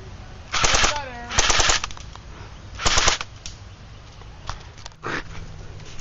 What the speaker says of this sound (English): Just shot Aaron